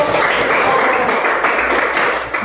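Applause from a classroom of students during a coding lesson, a dense steady patter of many hands lasting a couple of seconds before easing off, with some voices mixed in.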